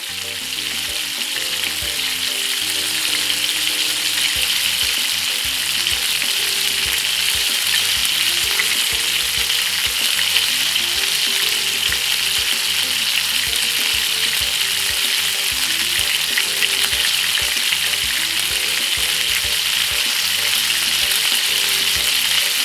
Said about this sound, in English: Fry some nice fish for Mother's Day.